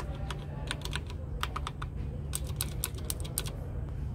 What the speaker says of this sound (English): Do y'all like loud keyboards?